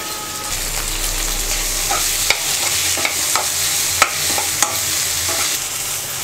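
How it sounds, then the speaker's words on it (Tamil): Chopped tomatoes sautéing in a pan with onion and ginger-garlic paste for Chettinad chicken: a constant dense sizzle with occasional spoon scrapes and light taps, close and without talk. "தக்காளியை நல்லா வதக்கிட்டேன்."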